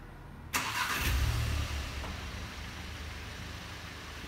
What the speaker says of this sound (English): Within 3 to 4 seconds, the vehicle will start.